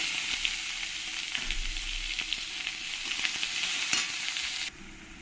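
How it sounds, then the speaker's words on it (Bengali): Chopped onions fry in hot oil with dried red chillies, bay leaf and cumin, making a continuous loud sizzle broken by faint stirring scrapes until it cuts off near the end. "পেঁয়াজটা আমার ভাজা হয়ে গেছে"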